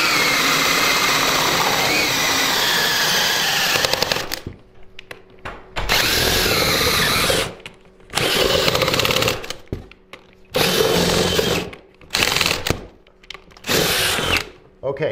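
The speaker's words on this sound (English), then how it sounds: "So we're going to drill into the sheetrock this way" A power drill bores into garage sheetrock in several loud bursts, a long run first and then shorter pulses with quiet gaps between them, heard up close.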